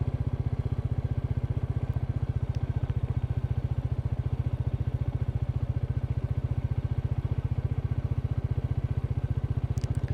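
Royal Enfield Meteor 350 with its J-Series single-cylinder engine thumps steadily in low gear while riding off-road on a rough lane, a loud continuous lugging pulse with faint clatter on top.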